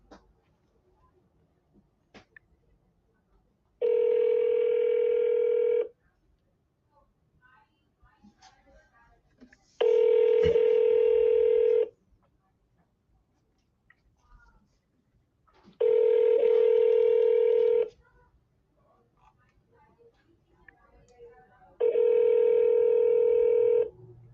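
Phone tones on a Google Voice call sound four times, each a steady two-second electronic tone separated by roughly four seconds of near silence with faint clicks.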